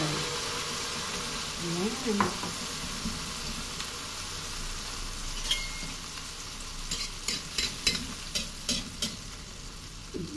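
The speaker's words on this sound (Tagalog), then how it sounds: "Mainit na ang ating mantika. Ilagay na natin ang ating mga loves. Mixture." An eggplant omelette mixture fries in hot oil with a soft continuous sizzle, a brief voice early on, then a run of quick utensil taps and scrapes against the pan toward the end.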